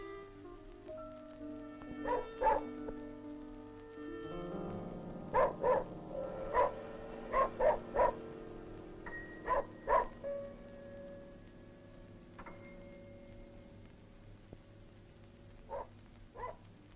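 A hunting dog in the Ural forest barks in short, scattered bursts, some doubled, at moderate distance over a steady droning background.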